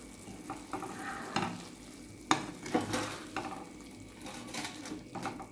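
Potato masala curry cooks in a pan about to be covered, giving a quiet low sizzle with scattered soft clinks and scrapes of utensil and lid, and no voices.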